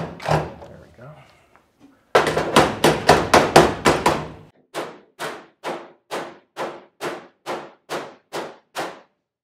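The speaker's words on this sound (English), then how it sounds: "Use a little bit of this straight edge hammer thing." A straight edge hammer strikes sheet metal on a 1968 custom VW, first a rapid run of seven ringing blows, then a steady series of about eleven evenly spaced, sharper taps, close and loud, after a brief moment of talk.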